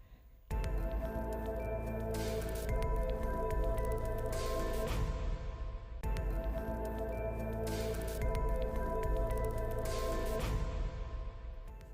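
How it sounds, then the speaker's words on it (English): Water running steadily over chopped vegetable leaves during washing in a home kitchen, a continuous wet splashing that starts abruptly and carries on at even strength. "I'll be running some water on the leaf, and I also like to add a bit of salt."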